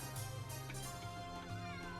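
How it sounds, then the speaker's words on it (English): A cat meows in the Suikoden V video game, a short in-game cry sitting over steady background game music, fairly quiet and heard once or twice in a brief moment. "There's a kitty."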